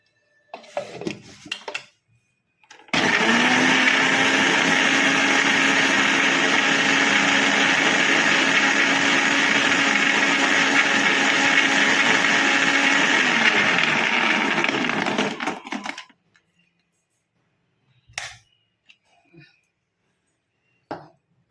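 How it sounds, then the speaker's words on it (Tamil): Electric mixer grinder blending ice apple (nungu) with milk, a loud steady motor whir lasting about twelve seconds after a few brief clatters, then stopping abruptly, followed by faint handling knocks. "இதை நம்ம ஓட்டி எடுத்துகிட்டு வரலாம் மிக்சியில் அரைப்பட்டு எடுத்துகிட்டு வரலாம்"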